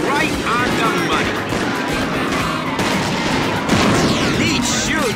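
Rapid video game gunfire from a Starsky & Hutch shootout rattles in dense, continuous bursts. Music and in-game voices run underneath, and the firing stays loud throughout.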